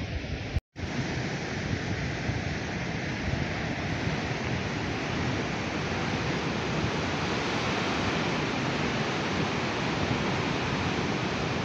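A forest waterfall pours during heavy monsoon rain, making a steady, loud, broadband roar that continues unbroken apart from one momentary dropout near the start, with no voices.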